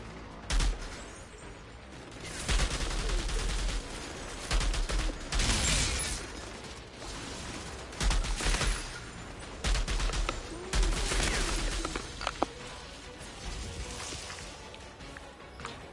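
Bursts of gunfire from a player's weapon in the shooter game Outriders, loud repeated volleys coming in clusters over about sixteen seconds against a busy combat background.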